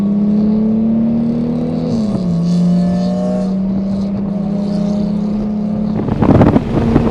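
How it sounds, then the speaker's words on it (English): Stock 2020 Toyota Supra Launch Edition on the VIR racetrack, a loud, steady engine drone heard from inside that holds a high note, drops with a shift, then rises again before a burst of rushing noise at the end. "we're gonna take this Toyota Supra Launch Edition out and see how it performs completely stock around VIR"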